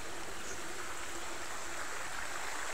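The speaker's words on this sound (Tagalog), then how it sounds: "maliit na sapa" A small forest stream flows steadily, a continuous soft rush and babble of water close by with no other sounds over it.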